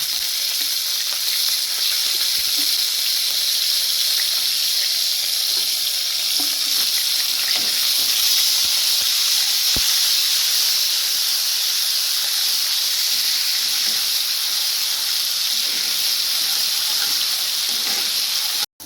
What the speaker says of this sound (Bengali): পেঁয়াজ বাটাটা দিয়ে দিচ্ছি।